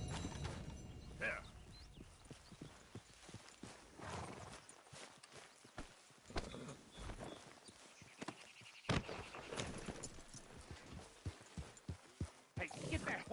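Horse hooves clip-clop in a video game, with irregular thuds and a whinny under steady in-game dialogue and background noise.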